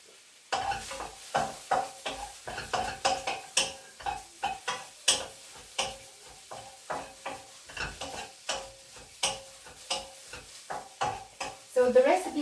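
Mushrooms and vegetables are tossed in a hot wok with irregular scraping and clattering stirs over a faint sizzle that runs steadily throughout, close and fairly quiet.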